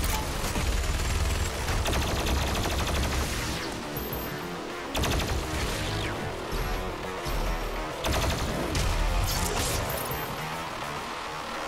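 Constant, dense gunfire from the first-person shooter Doom Eternal during a slayer gate combat encounter. Rapid bursts, repeated shots and crashing impacts run the whole way at a steady, busy level, with no voices over them.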